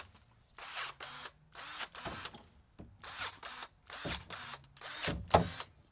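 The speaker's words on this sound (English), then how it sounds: "So we highly recommend this Dewalt Pruner." A Dewalt pruner cuts through branches a little over an inch thick in a yard, giving a series of short, fairly faint motor bursts separated by brief pauses. There is no talking.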